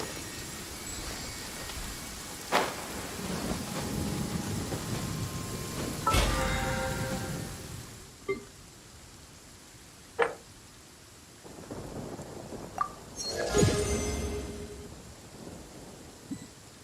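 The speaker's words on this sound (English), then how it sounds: "Quite a downpour." Heavy rain pours steadily in the video game Genshin Impact, a dense hiss broken by several sharp thunder cracks and rumbles, with a louder burst of thunder near the end.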